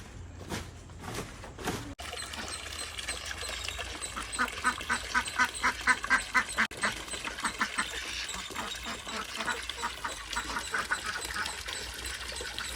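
Ducks at a pond quack in a rapid rhythmic series, loud and close, with more scattered quacking and background noise around them.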